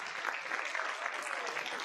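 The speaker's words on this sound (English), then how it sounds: "Give yourselves a round of applause." Audience at a school district State of Our Schools event clapping, a steady, fairly faint patter of many hands heard from a distance.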